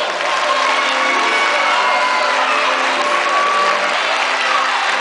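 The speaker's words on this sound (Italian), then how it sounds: "Intanto un grandissimo applauso al maestro Gaetano Sferro" Loud, dense applause with cheering and whoops from a school concert audience at Le Ciminiere in Catania, honouring the conductor. It runs steady and continuous for the whole stretch, with no talk over it.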